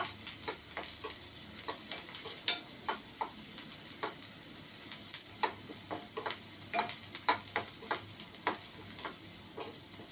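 Onion fries in a pan, giving a soft continuous sizzle broken by regular scraping taps of a stirring utensil, close and fairly quiet, with no voices.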